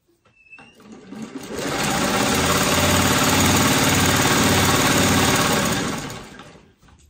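A sewing machine sews a quilt in one continuous, loud run, its motor whirring and stitching rhythmically as it ramps up, holds steady for several seconds, then winds down.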